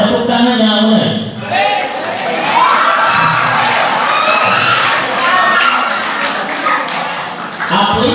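Children shout and cheer together in a lively crowd, with bursts of excited voices and some clapping, fairly loud and close, mixed with speech.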